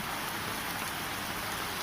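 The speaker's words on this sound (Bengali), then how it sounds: "আজকে সকালে দেখছেন কি বৃষ্টি হচ্ছে।" Steady, dense morning rainfall in Bangladesh hisses evenly on surfaces, a constant wash of drops with no voices or other sounds.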